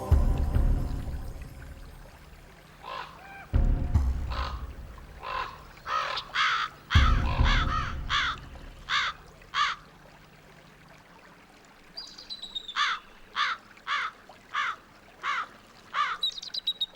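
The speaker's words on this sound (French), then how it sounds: "les aigles pêcheurs et les corbeaux se disputent leurs dépouilles" Crows fighting with eagles over salmon carcasses on Haida Gwaii give a series of loud, evenly spaced caws in two runs, after a few heavier thumping noises near the start.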